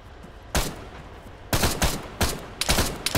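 Gunfire in the military shooter Arma: a sharp single shot, then a quick run of loud, close rifle shots in uneven bursts, each cracking out over quiet background.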